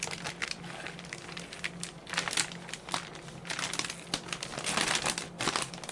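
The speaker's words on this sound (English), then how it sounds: "this plastic, not completely, but it is held in place right now, and I can peel it off." Thin plastic film being peeled away, producing a close, continuous crinkling and crackling with irregular bursts that swell louder toward the end.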